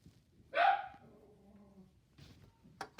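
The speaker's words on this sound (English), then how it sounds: "Don't mind my dog barking in the background there." A dog barks once, fairly loud, in the background of a room, then a couple of fainter yips and short clatters follow.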